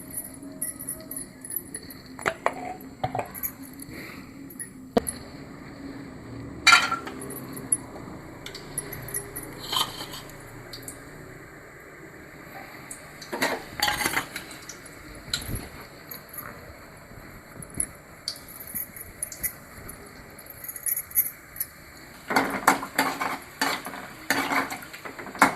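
Metal spoon scraping and clinking in a pan as oil and ghee are heated to temper pongal, with intermittent clatter of utensils and a faint sizzle, no talking.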